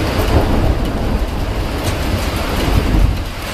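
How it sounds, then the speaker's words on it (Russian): Heavy rain with hail in Moscow pours in a constant wash while low rolling thunder rumbles beneath it, loud and close, with gusty wind buffeting the microphone. "Мы слышим раскаты грома."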